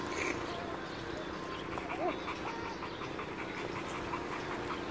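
A puppy whimpers and gives small yips amid steady indoor background noise, with a larger dog nearby and occasional human speech mixed in.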